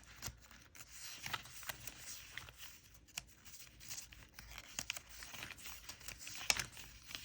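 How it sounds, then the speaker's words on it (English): Pages of a paper collage kit are turned one after another, giving soft, close rustles, crinkles and light flicks that come in irregular bursts with no talking. "Just going to keep turning the pages."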